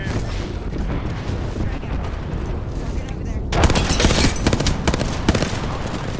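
Gunfire in the Apex Legends battle royale game: muffled shooting at first, then a sudden burst of loud, dense, rapid shots from several weapons at close range.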